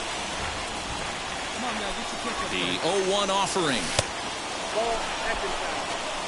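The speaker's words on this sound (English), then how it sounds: "This has got to be the hardest rain we've seen all afternoon." Heavy rain pours steadily during a baseball game in MLB The Show, a constant loud hiss under a commentator's voice.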